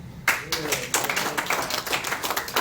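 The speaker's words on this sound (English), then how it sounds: "how about a round of applause for the Affordable Care Act?" Audience applause at a Democratic club campaign gathering, a dense burst of clapping that starts after a brief quiet moment and holds steady, with voices mixed in.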